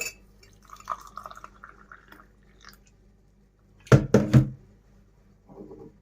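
Water poured into a cup holding Nescafe instant coffee and sugar, a short burst of liquid splashing and trickling, close and fairly loud, with no talk over it.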